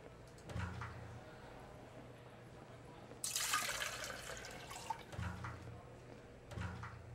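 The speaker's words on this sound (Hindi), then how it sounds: "तो पानी डाल दूँ थोड़ा।" Water pours in a coffee shop video game, a soft steady splashing burst in the middle under quiet background tones and faint game sounds.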